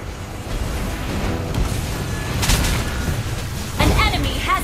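Mobile Legends turret being destroyed in a match, a booming explosion with rumbling bursts over busy game effects and an announcer voice, loud and dense throughout.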